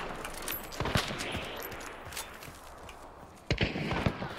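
Video game shootout gunfire sounds as scattered sharp shots, with several cracks early on and a louder cluster of reports near the end over background noise.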